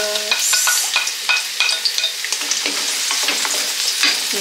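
Onions and ginger sizzle in hot oil while being stirred, a loud, steady crackling fry broken by scraping strokes, close up for a Filipino chicken curry.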